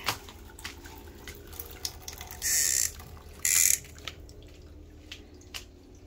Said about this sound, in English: Oops, the water coming. Turn off the water.